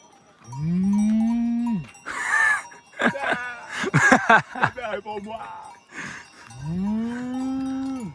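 Cows lowing in an alpine pasture near Oeschinensee in Switzerland, two long deep moos at the start and end with a livelier stretch of bell clanks and mixed sounds between, and a voice talking in passing.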